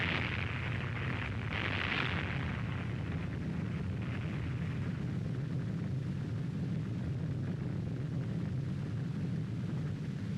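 An atomic bomb test explosion from Operation Crossroads, 1946, heard as a continuous heavy roar and rumble with a swelling hiss near the start, steady and unbroken throughout.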